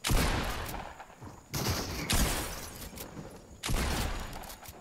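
Gunfire bursts in Fortnite, likely a shotgun, come in loud sharp clusters separated by brief gaps, each burst crackling and echoing across a wide, busy mix.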